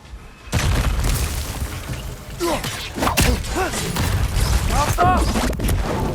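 A blast erupts from an exploding enemy in the game God of War Ragnarök, a sudden loud boom followed by sustained rumbling combat noise and scattered bursts, with faint creature or voice-like calls layered through it.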